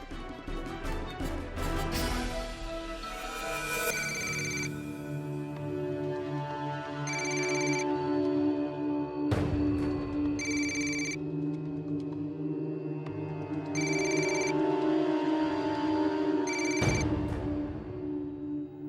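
A telephone rings in repeated electronic trills with pauses between them, playing over sustained background music.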